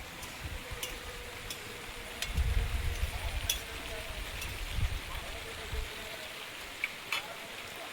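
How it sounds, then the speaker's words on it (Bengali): Heavy rain falls outdoors around an open-air kitchen, a steady hiss with scattered sharp drips and taps, swelling briefly louder partway through, with a voice heard over it. "আবার জোরে বৃষ্টি আসছে।"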